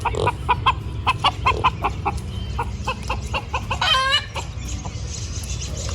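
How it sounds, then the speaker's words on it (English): A Red Ranger hen clucks close by in a farmyard, a run of sharp repeated clucks followed by a rising squawk, with no talking. "Scarlett's one of our Red Ranger hens that we decided to hold back."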